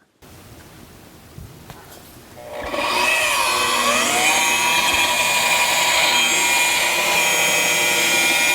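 Rupes LHR19E rotary polisher spinning up after a quiet start, then a loud, steady whirring whine with slight pitch shifts as it works a panel, close by.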